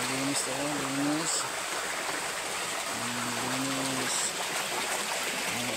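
Clean stream water rushing steadily at a waterfall, a continuous close wash of flow with a voice speaking briefly over it.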